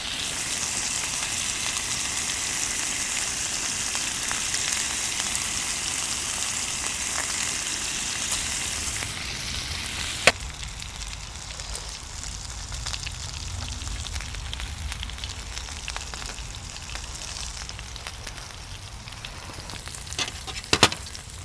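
Thick cuts of meat with fat sizzle steadily on a grill at a car-camping spot in Jeju, a dense hiss that runs throughout, with a couple of sharp pops and clicks near the end and no talk.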